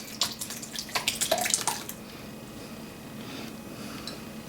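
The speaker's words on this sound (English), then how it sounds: "now we're going to pour, we got a quart of our homemade tomatoes" A quart of homemade canned tomatoes pours out in a burst of wet splashing and glugging that trails off into quiet dripping.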